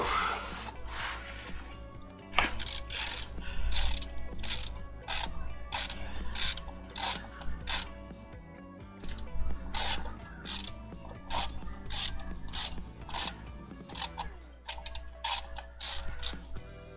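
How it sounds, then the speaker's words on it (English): A small ratchet mechanism turns with a rapid, even run of close ticking clicks against a low background hum, steady for most of the stretch and slowing near the end. "You can see I stop when it stops turning by finger on the ratchet there."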